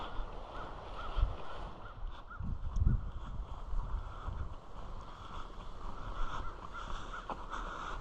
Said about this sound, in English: Some crows.